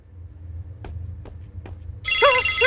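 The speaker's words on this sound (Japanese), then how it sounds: "ダブル着信音じゃない？" In the horror game The Bridge Curse, a rotary phone's ring and a second ringtone sound together, entering abruptly and loudly after a few sharp knocks in a quiet room.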